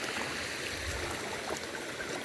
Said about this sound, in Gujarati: ઝરણું આવ્યું ઝરણું.